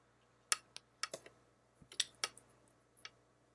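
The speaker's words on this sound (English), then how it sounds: "I'm going to type it in" Keys on a computer keyboard are typed in short, irregular bursts of sharp clicks, close and fairly quiet, with no talking over them.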